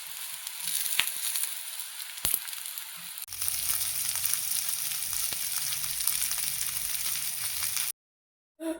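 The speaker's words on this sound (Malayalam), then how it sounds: "ഇതുപോലെ നമ്മൾ വെജിറ്റബിളൊക്കെ ഒന്ന് ഫ്രൈ ആക്കി എടുക്കട്ടോ" Carrot and tomato slices frying in a pan for an Arabic chicken maqluba make a steady, close sizzle with a few sharp clicks, growing fuller midway and cutting off abruptly near the end.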